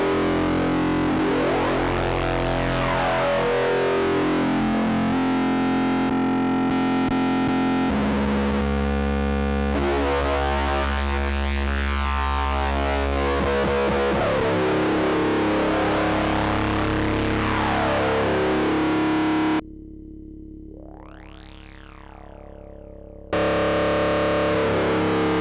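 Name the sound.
guitar through Fuzzbillion fuzz distortion pedal with LED diode clipping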